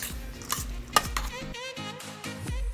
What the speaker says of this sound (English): you can just mix it up with a spoon